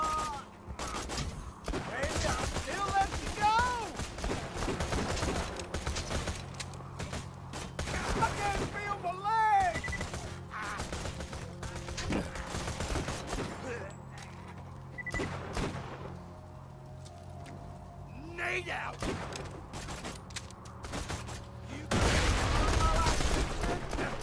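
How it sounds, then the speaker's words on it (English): Enemy gunfire in Borderlands 2 VR, bursts of shots and blasts scattered across a busy, loud game soundscape, with tonal effects layered through and a heavy low-end boom near the end. "And now these guys are shooting me like a mofo."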